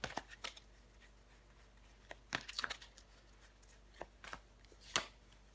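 Tarot cards being handled and laid down on a surface, a scattered series of crisp, close snaps and soft slaps spaced irregularly, with no talking.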